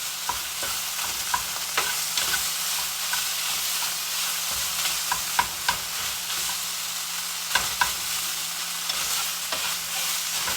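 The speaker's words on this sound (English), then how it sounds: "Let me stir this rice real quick." Rice stirred in a hot frying pan: a continuous close sizzle broken by irregular spatula scrapes and taps against the pan, with no talking.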